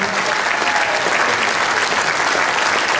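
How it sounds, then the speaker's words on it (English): Dense, sustained applause from a festival audience at the Bix Jazz Festival, greeting the New Red Onion Jazz Babies from Kansas City, steady and loud throughout with no gaps. "Let's hear a big round of applause for them."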